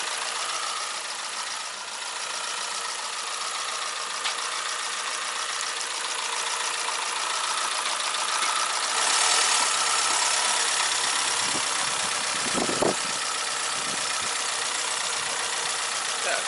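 A 2010 Chevrolet Aveo 1.4 SE automatic idles with a steady, close engine hum and a faint knocking vibration. A brief thump sounds near the end, and there is no talk.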